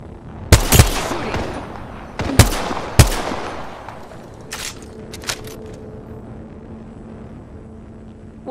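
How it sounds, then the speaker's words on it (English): Gunfire in the Apex Legends battle royale game: a few sharp, loud shots in quick bursts, followed by fainter scattered pops and low rumble. "Shooting."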